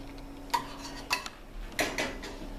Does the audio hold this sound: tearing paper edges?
no